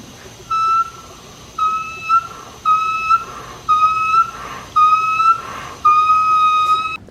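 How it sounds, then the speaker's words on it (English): Boost leak whistling from the passenger side turbo inlet of an Audi B5 S4, six sharp tonal whistles in a steady rhythm, each about half a second long, close and loud. "that noise was coming from the inlet on the passenger side turbo"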